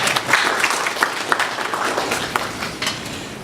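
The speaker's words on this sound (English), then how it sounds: "a round of applause for him" Audience applause at a power-sector policy dialogue in Nigeria: steady, moderately loud clapping from a seated crowd with a few sharper individual claps standing out, continuing evenly for a few seconds.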